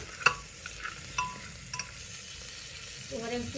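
Vegetables and mutton paya stirred in a pot: soft sizzling with several short spoon scrapes and knocks, close by, and a voice speaking briefly over it.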